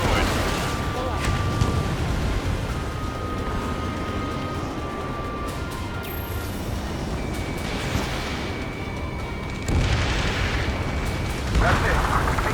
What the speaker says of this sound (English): Vehicle confirmed destroyed.